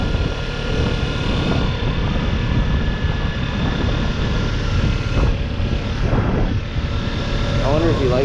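A 2017 Kawasaki Ninja 300 motorcycle engine while riding, a loud steady drone mixed with heavy wind rush that runs throughout, with occasional shifts in pitch.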